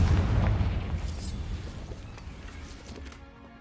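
A Confringo fire spell goes off in Hogwarts Legacy on PS5 with a deep booming blast at the start. The rumble fades slowly over a few seconds, and there is no talking.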